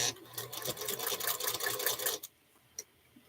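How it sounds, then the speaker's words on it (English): A sewing machine stitches a short quarter-inch seam on a quilt block, a fast close mechanical whir for about two seconds that stops abruptly, followed by a single click. "go back and sew that little 1/4 of an inch that I just had to take out"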